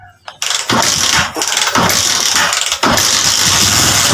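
A Honda TMX125 Alpha motorcycle engine with the choke on cranks and catches, settling into a loud, rough idle with a few dips and surges, close by.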